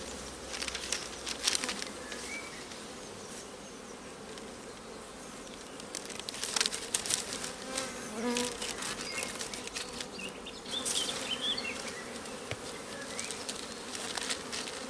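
Honey bees buzz densely around an open hive during hive merging, a constant near swarm drone with scattered louder passes of individual bees and faint handling sounds.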